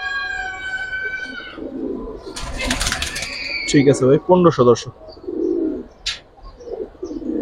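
Giribaz pigeons coo in low, throaty rolling bursts at close range, with a few higher chirps around them, while people talk over and between the calls.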